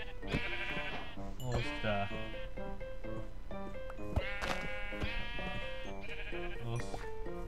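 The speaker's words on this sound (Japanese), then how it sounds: "あ、いた、羊だ、3匹だ。" Several sheep bleat repeatedly in Minecraft, loud overlapping cries that come in bursts, while someone talks quietly over them.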